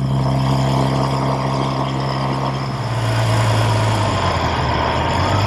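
A 1969 Triumph Daytona 500 motorcycle engine hums steadily in fourth gear at about 4,000 rpm and roughly 55 mph. The tone shifts partway through as the drone continues, with wind noise and no talking.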